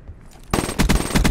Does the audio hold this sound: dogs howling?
no